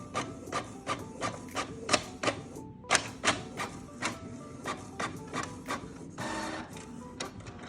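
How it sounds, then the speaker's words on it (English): A home printer feeds and prints on cardstock paper, giving steady rhythmic clicking and rasping mechanical strokes roughly every half second, ending in a brief whirring run. The sound is close and clear, with no talk. "I'm just going to feed that into my printer, and then I'm just going to click print."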